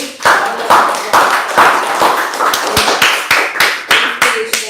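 A single person clapping in a steady rhythm, about a dozen sharp close claps, marking a round of applause at a Toastmasters club meeting.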